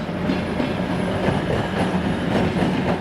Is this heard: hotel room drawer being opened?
no